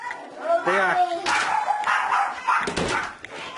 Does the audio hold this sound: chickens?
no